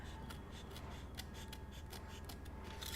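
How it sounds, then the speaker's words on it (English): Scissors snip a paper craft of Easter rabbit ears, giving faint, repeated small cuts over a steady background hiss. "And we're going to snip that."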